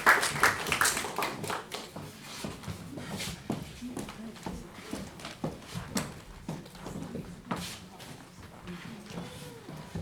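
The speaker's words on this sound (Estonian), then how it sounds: "et võiksime korraks kõik plaksutada" Guests at a church's 140th anniversary reception clapping, scattered irregular hand claps that start fairly strong then thin out, with some talk mixed in, in a reverberant room.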